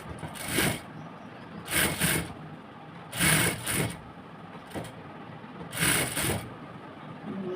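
A sewing machine stitches folded fabric for palazzo pants, running in five short, close bursts separated by brief pauses, with a soft mechanical whir between runs.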